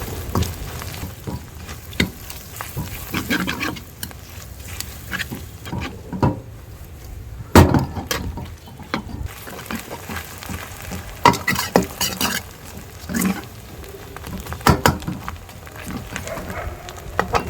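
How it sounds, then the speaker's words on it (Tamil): Onions and green chillies frying in a pan, a close crackling sizzle broken by frequent clacks and scrapes of stirring, irregular and busy throughout with no talk. "மிளகா வெங்காயத்தையும் நல்லா நம்ம ஃப்ரை பண்ணிக்கலாம்"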